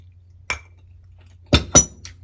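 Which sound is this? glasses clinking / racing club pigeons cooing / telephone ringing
glasses clinking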